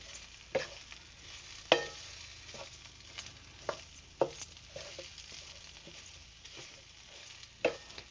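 Stuffed bitter gourd sautéed in a pan, giving a soft continuous sizzle broken by several sharp spoon-stirring clacks spaced irregularly, fairly quiet and close with no talking.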